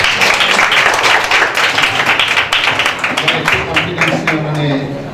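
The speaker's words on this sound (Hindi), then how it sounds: "बेटी तानिया के लिए जोरदार तालियां" A church or Bible college audience claps for a young woman preacher, producing dense, steady applause that stays loud and close for the whole stretch and fades a little toward the end.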